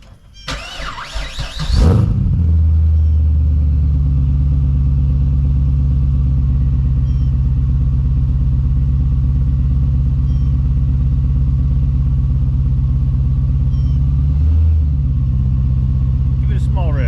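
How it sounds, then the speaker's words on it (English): A supercharged Pontiac GTO cold-starts with a brief cranking burst, then settles into a loud, deep, steady exhaust idle rumble that holds for over ten seconds, with a slight dip near the end. "people are asking for the sound of the exhaust. Here's a cold start"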